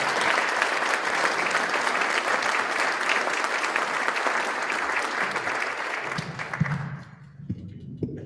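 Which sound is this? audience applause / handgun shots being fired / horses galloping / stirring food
audience applause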